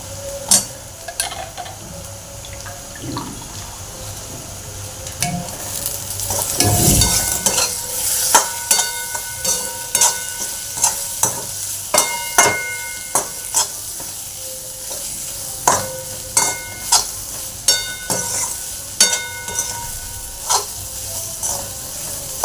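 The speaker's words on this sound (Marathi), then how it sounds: "आता ते पाण्यातून काढून पिळून घेणार आहे चांगलं आणि ते कढईमध्ये घालून घेणार आहे" Soaked, squeezed soybean chunks sizzle and fry in a kadhai while a utensil scrapes and clacks against the metal in a steady stirring rhythm, close and clear.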